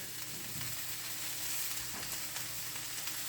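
Chicken meatballs sizzle and fry in a pan, a close, steady crackling hiss with faint scraping as they are turned.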